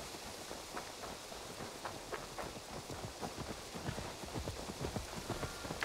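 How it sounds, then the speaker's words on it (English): Horse hooves clip-clop steadily in Assassin's Creed Valhalla, a rapid rhythmic trot growing gradually louder as the mount approaches over a soft ambient game backdrop. "I'm gonna be there by the time this fucking horse arrives."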